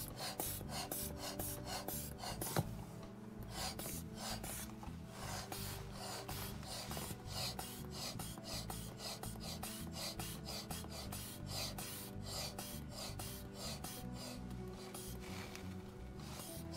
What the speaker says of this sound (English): I'm pumping it.